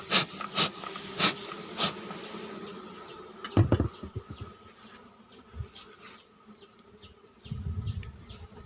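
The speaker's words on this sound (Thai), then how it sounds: "ไอ้ที่นูนออกมาก็คือรังของผึ้งที่มันสร้างขึ้นมาเองนะคะ" Bees buzz around an opened wooden beehive with a bulging comb, a soft, close droning hum with individual insects whirring past in several louder swells.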